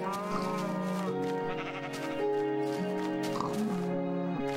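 Mooshroom cows in Minecraft give a few low, drawn-out game moos in a steady rhythm, close and fairly loud over a constant background tone, with no talking.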